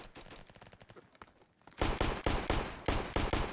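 Rapid pistol gunfire in a Flag Wars video game, soft quick shots at first, then a louder burst of evenly spaced sharp cracks, with no talking.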